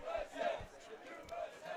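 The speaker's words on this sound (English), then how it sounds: "the student section chanting USA as it is Military Appreciation Night here" A high school student section chants USA in rhythmic, distant crowd shouts at a varsity football game on Military Appreciation Night, repeated beats rising and falling under stadium noise.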